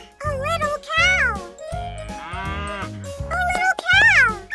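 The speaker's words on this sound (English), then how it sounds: "A little cow!" A little calf gives a string of short, rising and falling moos with a small bell jingling alongside, close by and fairly loud.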